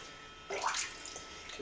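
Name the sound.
pouring out Blix film-developing chemical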